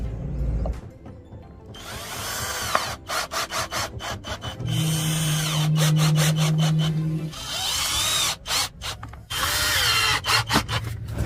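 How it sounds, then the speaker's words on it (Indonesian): A power drill drives screws into plywood in repeated bursts of whirring and grinding, separated by short pauses, with a steady tonal hum in the middle. The sound is close and fairly loud, with no talking. "Lalu ini kita sekrup ya. Ini kita sekrup dengan tripleknya,"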